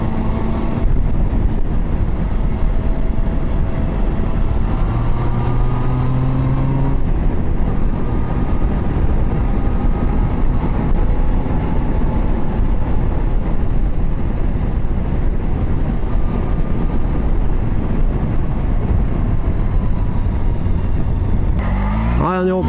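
A 2016 Triumph Tiger Sport motorcycle riding on the road, its engine droning loudly and steadily with rising revs and wind rush throughout, continuous and close.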